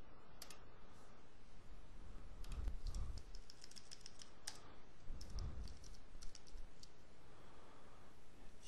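Steady clicking of computer keyboard keys while C# code is written, a continuous patter of light taps over a constant background hiss, with no speech.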